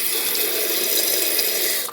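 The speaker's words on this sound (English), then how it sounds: "it kicks on to fill up some more water in the basin" A toilet fill valve refills the tank, sending a steady, close hiss of rushing water that cuts off at the end.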